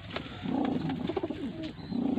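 Pure golden pigeons cooing in a loft in Lahore, a continuous soft throaty cooing with repeated low pulses, close and moderately loud, with no talk.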